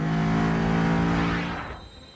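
A GT3 race car at the Kyalami Grand Prix circuit during the Kyalami 9 Hours accelerates out of a corner toward the finish line. A loud, steady engine roar with clear tonal harmonics holds, then fades away over the last second.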